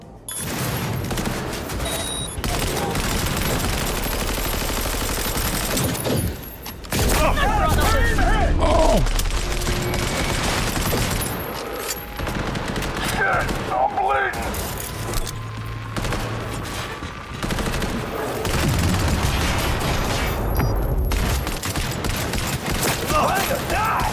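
Shotgun blasts and gunfire in Cyberpunk 2077, loud booming shots and dense firefights running almost continuously over game sounds, with a person talking over the action.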